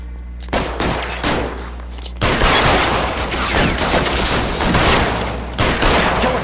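Loud, dense gunfire from the LA Noire video game, with bursts and a sustained volley of shots rattling through most of the stretch, ongoing and close.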